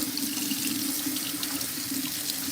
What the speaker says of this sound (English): And then I also take mine and I rinse them too.